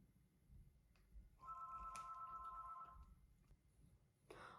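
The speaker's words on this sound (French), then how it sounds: "il y a le téléphone qui sonne" A telephone ringing indoors gives a steady electronic ring tone that lasts about two seconds, moderately loud over quiet room noise, with no talking.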